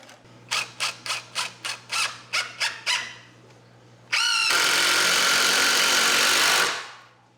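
Power drill driving screws into wood, opening with about nine short rhythmic bursts of whirring, then one long loud sustained run that winds down at the end.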